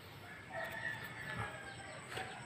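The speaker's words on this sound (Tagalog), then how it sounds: "Ayan yung mga manok ko." Backyard chickens cluck and a rooster crows faintly at a distance over a quiet, hissy outdoor background, with a couple of brief louder calls.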